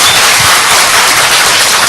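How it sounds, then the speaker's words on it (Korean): Audience applause at a crowded seminar hall in Korea, a dense, steady wash of many hands clapping at once that fills the full two seconds without a break, loud and close. "여러분들의 성공을 위해서 박수 한번 드리겠습니다"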